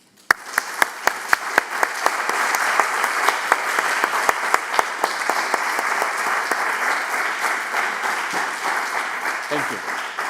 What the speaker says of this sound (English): please join me for a good round of applause for our presenters